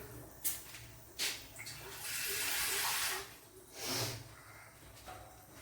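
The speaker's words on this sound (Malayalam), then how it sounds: "വേകുവാൻ ആവശ്യമായ വെള്ളം ഒഴിച്ചു കൊടുക്കുക." Water poured into a pressure cooker of sliced pineapple for a Kerala-style pineapple pachadi, a soft hissing splash that swells for about a second, then a shorter second pour, with small clinks around it.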